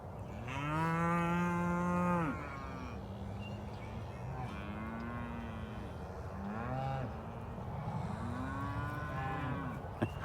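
Cattle mooing during calving season, one long loud low moo followed by several softer, shorter moos from cows nearby and farther off, over steady outdoor background noise.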